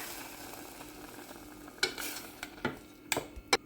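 Spoon stirring boiled milk into a ridge gourd and grated coconut curry in a pan, with a soft sizzle underneath and a few sharp scraping knocks near the end.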